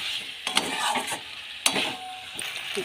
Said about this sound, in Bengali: এবার ভেজে রাখা আলুগুলো দিয়ে দেবো। এই যে ভেজে রাখা আলুগুলো দিয়ে দিচ্ছি। এবার আর বেশিক্ষণ, আবার কিছুক্ষণ কষে নিতে হবে।